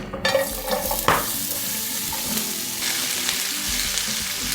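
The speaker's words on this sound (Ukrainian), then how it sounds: "На сковорідку вливаю олію і кидаю цибулю." Steady crackling sizzle of onion frying in hot oil in a frying pan, with a brief clatter near the start, continuous and close throughout.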